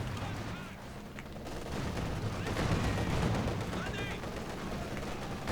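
Sustained machine gun and rifle fire in a strategy video game with a 2v2 tournament match, a dense rattling barrage that keeps going throughout the clip and swells toward the middle, with explosions and battle noise mixed in.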